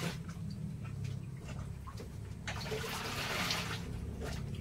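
Water splashes and trickles while a rescued dog is bathed in a soaking tub with added water and soap, soft sloshing that swells midway over a low steady hum.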